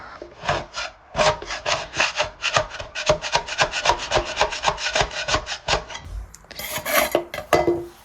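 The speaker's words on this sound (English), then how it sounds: "scraping it. I mean, it's definitely hardwood." Hand scraping of the old finish off a hardwood table, a steady run of rhythmic rasping strokes, close and loud, continuing without pause before a brief different scratch near the end.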